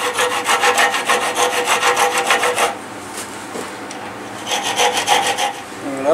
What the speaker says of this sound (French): Alors on va les couper du support, la scie.